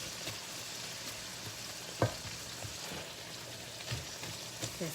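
Onions frying in a hot skillet with taco meat for a cheesy vegetable dish, a steady close sizzle and crackle with a few sharper pops of stirring, no talking.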